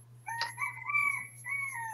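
A rooster crows once, clear and fairly close but modest in level, a rising then sustained call against a steady low hum, with no talk.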